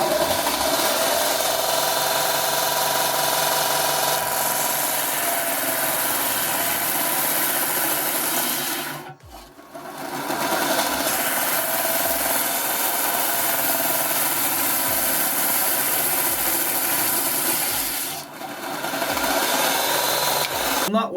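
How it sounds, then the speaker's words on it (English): A Clarke Metalworker belt grinder running an 80 grit belt against wood, a steady loud motor drone with abrasive rubbing that briefly drops out twice as the workpiece is lifted or the belt slows. "We'll first go with the Clarke Metalworker and see what happens."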